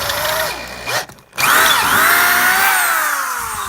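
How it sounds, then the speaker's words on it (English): A power drill bores into a shifter linkage part on a 1972 Pontiac LeMans GTO with a B&M ratchet shifter, whining loudly up close, cutting out for a brief moment and then spinning steadily again. "now we're just going to drill this"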